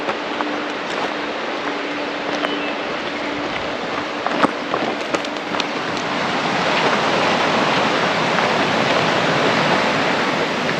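Water rushes out of an intermittent spring creek in Wyoming, a loud, steady, broad roar like a small waterfall that swells slightly toward the end, with a few faint clicks and thumps over it.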